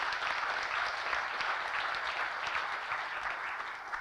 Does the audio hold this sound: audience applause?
yes